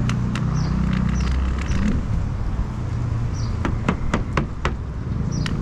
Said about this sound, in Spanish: Estoy pegando su carro para llamar la atención.